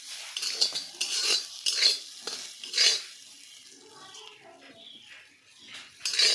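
Path saag greens with masoor dal frying in a pan with oil, a spoon scraping and clinking against the pan in several strokes over a soft sizzle, then a quieter stretch before more stirring.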